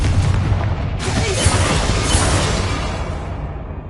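A loud booming fire blast from the Confringo spell in Hogwarts Legacy, a broad roaring burst that swells and lingers before fading, with no talk.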